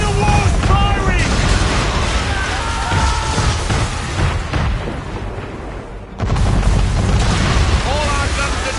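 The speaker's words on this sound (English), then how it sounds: "Man of war's firing!" Cannon fire from a man-of-war warship in Assassin's Creed 3 booms loud and close in heavy, continuous volleys, with a brief lull before another blast, while shouting voices mix into the battle noise.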